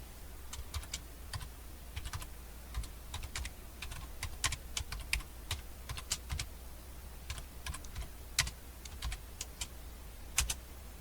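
Steady typing on a computer keyboard, close-up clicks in uneven bursts and runs over a low constant hum, with no voices.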